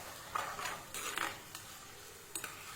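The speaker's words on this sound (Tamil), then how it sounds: "நல்லா அப்படியே வதக்கி விடலாம் பாருங்கள்." Chillies, garlic and onion are stirred in a pan while sautéing, with a spatula making soft, faint scrapes and light metallic clinks in short, uneven bursts.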